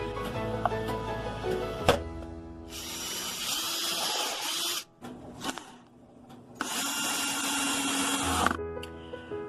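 A power drill drives screws into an upcycled wooden drawer being made into a stool, with two sustained whirring bursts separated by pauses and small clicks and handling knocks, close by with no talk.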